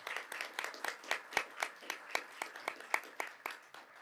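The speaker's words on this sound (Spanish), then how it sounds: "Por favor, demos un aplauso a la nueva mesa directiva 2023." A small group claps steadily for several seconds at a municipal council session, the hand claps close and distinct rather than a large roaring crowd.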